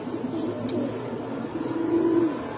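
Domestic pigeons of the Gorra and Kaldom breeds coo softly in a low, murmuring stretch, with a faint chirp early on and a slightly louder rolling coo near the end, against steady background noise.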